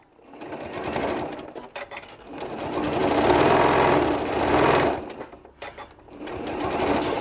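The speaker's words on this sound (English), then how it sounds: "I'm going to move my needle over a bit. And lock those stitches in because we are going to be turning here." A home sewing machine locks stitches on a small gift card case sewn from fabric scraps, running in several close, steady bursts separated by short pauses.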